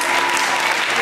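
A congregation at a Sunday church service breaks into loud, dense applause for graduates, a sustained wash of many hands clapping at once.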